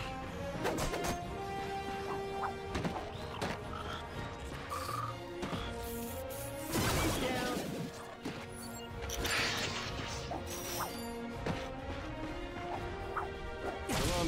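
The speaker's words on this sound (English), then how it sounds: "Look at him smashing crates." Busy video game soundtrack of Ratchet & Clank, with crates smashing and cracking in repeated bursts over continuous music and effects.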